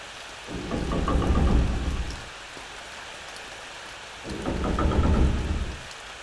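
Steady rain in the horror game Corpse Party Zero, broken by two deep rolling thunder rumbles that swell and fade a few seconds apart, loud and close with no voices.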